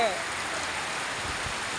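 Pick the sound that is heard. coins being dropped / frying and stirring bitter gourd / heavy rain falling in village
heavy rain falling in village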